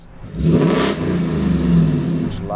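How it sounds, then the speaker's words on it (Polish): A loud six-wheeled truck engine revs steadily close by, a dense rumbling roar that swells early and holds throughout with no talk over it. "Może przez to, że moja ciężarówka jest za głośna."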